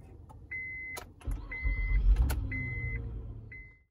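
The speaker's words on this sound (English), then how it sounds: "leave the car idling in park on a level surface" A car engine turns over and settles into a low, steady rumble, with a few electronic chimes beeping over it, idling in park.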